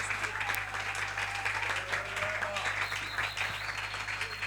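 Church congregation at a Communion service in Kinshasa applauding and cheering, a steady dense wash of clapping with crowd voices mixed in throughout.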